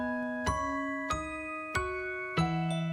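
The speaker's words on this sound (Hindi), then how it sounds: "तभी घंटी बजती है।" A doorbell chimes four times in a quiet indoor setting, each ding ringing out clearly with a lingering tonal decay, the last two strikes coming closer together.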